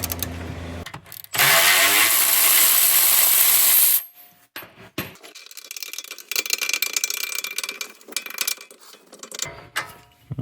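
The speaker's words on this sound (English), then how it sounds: "Next step is to remove the lower bolt of the strut, which is a 21mm here, using another 21mm here to secure the nut" A wrench works the 21mm lower strut bolt on an Audi B7 RS4 during a coilover installation, with a loud, sustained harsh burst of noise followed by scattered clicking, metallic tool sounds, close up.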